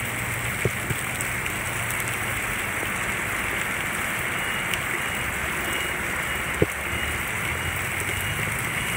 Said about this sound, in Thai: มันก็ไม่ใช่เรื่องแปลกที่น้องฝนจะตกนะครับ